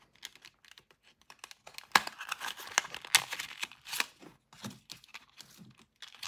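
Plastic packaging of a Kingston 512 GB micro SD card being cut open and torn, a close, quiet run of irregular snips, crinkles and clicks.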